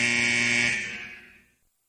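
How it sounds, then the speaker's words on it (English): A single loud electronic buzzer blares on a studio set, holding steady for under a second before fading out to silence. "There's the buzzer."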